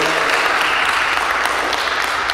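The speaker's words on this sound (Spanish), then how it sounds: "aplauso para el mariachi que acompaña a Gabriela." Applause for a mariachi band at a quinceañera Mass, a dense burst of clapping from a crowd lasting the whole short clip.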